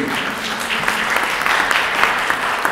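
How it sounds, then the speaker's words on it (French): Loud, close audience applause at a conference on business and innovation in the French overseas territories, an unbroken dense wash of clapping with no talk. "Vous pouvez applaudir aussi"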